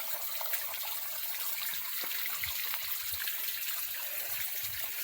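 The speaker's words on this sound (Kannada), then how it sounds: "ಚಾಲು ಮಾಡಿ ಅಲ್ಲಿ ಬಿಟ್ಟಿವ್ರಿ ನೀರು" Water runs steadily from a tap, a soft continuous trickle and hiss that holds at an even low level throughout with no voices.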